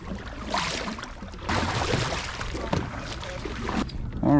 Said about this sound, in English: we're gonna have to use the paddle to get out of here